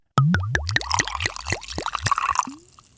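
Michter's Small Batch bourbon glugs out of a bottle in a quick series of about ten close, hollow plops and gurgles, ending with a short rising trickle as the pour finishes.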